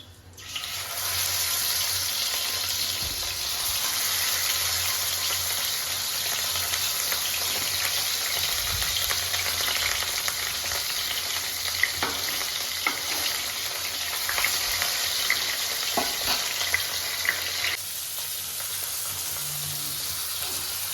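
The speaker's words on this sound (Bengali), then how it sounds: "এবার তেল গরম হয়ে গেছে, এবার আমি মাছগুলো ভাজা বসিয়ে দেবো।" Pieces of katla fish frying in hot oil in a home kitchen, a dense continuous sizzle and crackle throughout with occasional sharper pops and light stirring clinks, no talking.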